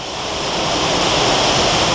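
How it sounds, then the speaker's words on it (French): A waterfall on a water ride at Le Pal gives a loud, steady broadband rush of falling water, close by and swelling slightly at the start. "Par contre, il y a une cascade là, j'ai peur."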